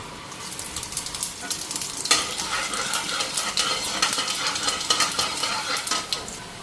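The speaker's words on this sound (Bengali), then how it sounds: "তো এদিকে তেল দিয়ে দিলাম, শুকনো লঙ্কা ফোড়ন দিয়ে দিই, আর গোটা জিরা।" Dry red chillies and whole cumin seeds crackle and sizzle steadily in hot oil in a pan, a dense, continuous frying hiss with sharper pops scattered throughout, close and fairly loud, no voices.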